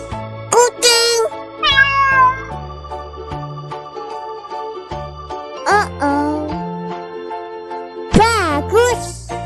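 A toy cat gives several loud, clear meows in bursts, separated by short pauses and backed by a tinkling electronic melody.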